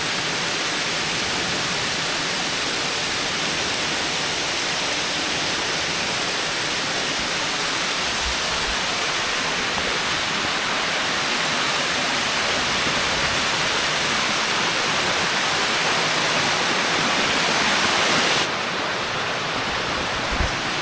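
A waterfall near the Eastern Continental Divide roars as a loud, constant broadband rush of falling water, steady and close throughout, with no voices.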